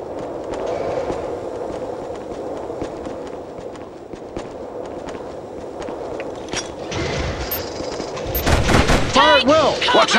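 Gunfire rattles through a battle in the PlayStation 2 video game Killzone, with repeated distant shots and footsteps under shouted voices, growing louder and busier toward the end.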